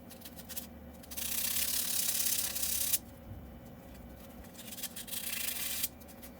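Sandpaper rasps across a rusty truck brake caliper bracket on a 2019 F150 in two long, bright bursts of close, steady scraping separated by quieter pauses.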